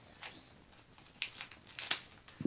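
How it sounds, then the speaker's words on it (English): Quiet crinkling of a plastic diamond painting kit package with a few short snips of scissors, close by and in brief bursts. "I want to try to rip it open with the scissors."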